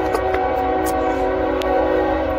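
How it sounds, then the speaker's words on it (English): A train passes close by outdoors, a steady loud rumble with sustained tonal ringing and brief sharp clanks on top, with no voices. "Oh crud, I got a train coming"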